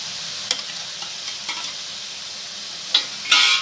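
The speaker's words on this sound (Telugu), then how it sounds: "ఇప్పుడు మామిడికాయ ముక్కలు వేసుకుందాము." Raw mango pieces frying in oil for a curry, giving a soft steady sizzle with scattered sharp crackles and a louder burst of spitting near the end as the pieces hit the pan, close by with no talk.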